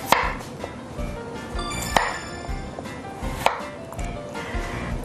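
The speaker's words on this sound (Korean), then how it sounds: "오늘 제가 하는 감자조림은 1cm 정방형으로 깍둑 썰기를 하겠습니다." Knife dicing potatoes into 1 cm cubes on a cutting board for braised Korean potatoes, with sharp chops landing irregularly in a few close, crisp strikes and no talking.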